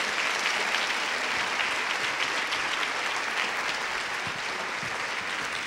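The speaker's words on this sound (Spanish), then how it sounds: "Un aplauso para Brenda," Sustained audience applause for a woman named Brenda at a women's event, even and moderately loud, a broad wash of many clapping hands that continues without pause.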